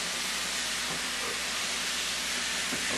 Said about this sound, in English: we're just gonna shove our beef right into there.